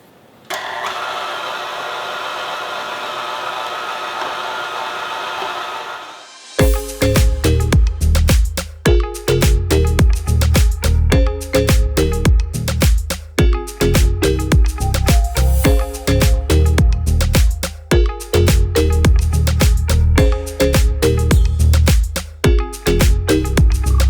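Meat grinder attachment, chilled from the freezer, grinding frozen lean top sirloin steak: a soft motor hum first, then a loud, steady churning grind with rhythmic pulsing and clattering that runs to the end.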